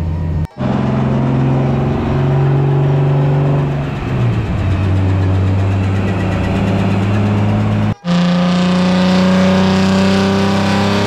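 Car engine running on a dyno in a drift workshop, a loud steady mid-pitched drone that idles, dips and rises again across two abrupt cuts, close and without talk.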